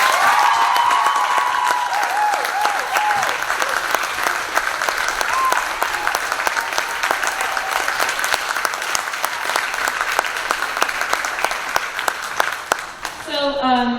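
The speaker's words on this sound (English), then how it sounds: "Can you guys give them just a huge round of applause?" A school audience applauds the seniors after a final performance of Twelfth Night, with sustained loud clapping and some cheering for over ten seconds, and a voice speaking briefly at the start.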